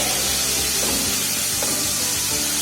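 Minced lamb sweating in a hot pan with celery, carrot and onion gives off a steady, close broadband sizzle and hiss that runs unbroken throughout, with no voices over it.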